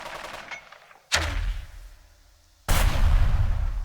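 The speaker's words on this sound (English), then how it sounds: "We're going to pick our 60mm mortar." Mortar and gunfire blasts in the Burden of Command tactical war video game, as a 60mm mortar fires: two loud, close booms with rumbling decay, about a second and a half apart, following a quieter stretch of distant crackle.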